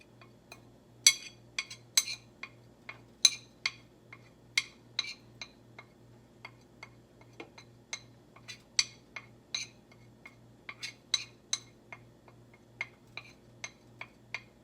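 Nutmeg being scraped from a container into a pot of Caribbean plantain porridge, heard as a quiet series of light clinks and taps of a utensil against the vessel, irregular but steady, close and alone over a faint hum.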